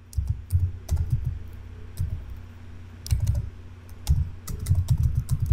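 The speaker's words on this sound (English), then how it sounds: "I'm going to type binocular" Typing on a computer keyboard while searching for an image in PowerPoint, with quick bursts of close, crisp key clicks separated by short pauses, heard alone.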